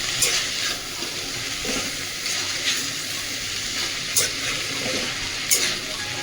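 Chopped banana flower (mocha) stirred in a pan, with a soft continuous sizzle and wet scraping, plus a few sharper clicks of a spatula against the pan.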